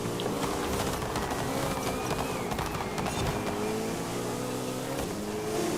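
A GT3 racing car in Forza Horizon 5, its engine droning loud and steady with rising and falling revs and a buzzing, whining tone through a lap of a race, no talking over it.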